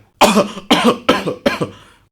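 Four harsh, close coughs from one man come in a quick, evenly spaced series, each a sharp burst that fades into a rasp, with no talk.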